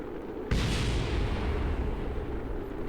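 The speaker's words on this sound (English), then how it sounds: "There went the last engine, that explosion you just heard." Rocket engine explosion in Kerbal Space Program during a descent, a single loud booming blast that hits suddenly and leaves a long, dense rumbling roar.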